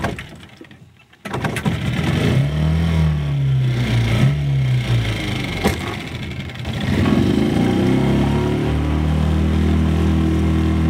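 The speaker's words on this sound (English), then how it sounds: "If I can crank the engine." A boat engine out on the Santee-Cooper lakes at night cranks briefly, catches, then runs and revs up and down in rising and falling waves, close and loud throughout.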